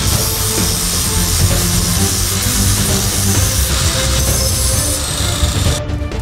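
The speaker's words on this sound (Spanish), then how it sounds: "Uno de los pasos difíciles es el esmerilado. Se debe limpiar el metal y soportar el ruido provocado por esta herramienta" An angle grinder works steel sheets for helmets in a smiths' workshop in Puebla, a loud, harsh, continuous hiss and scrape of abrasive on metal that holds steady throughout, with no voices.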